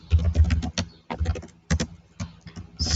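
Rapid, uneven clatter of keys on a computer keyboard as code is typed, close and fairly soft, in quick bursts separated by short pauses.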